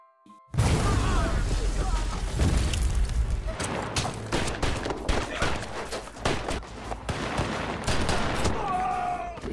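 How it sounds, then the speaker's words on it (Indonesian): Gunfight gunfire from the action film The Hard Way (2019), with dense bursts of shots and booms crackling loudly and continuously, fading into softer pops and a short tonal sound near the end. "Dan baku tembak pun dimulai."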